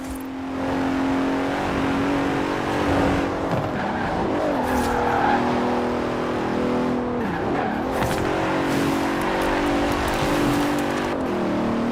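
In Forza Horizon 4, a Bentley Continental's engine howls continuously, revving and accelerating with sharp dips at gear changes and squealing tires as it corners, loud and close with no talk.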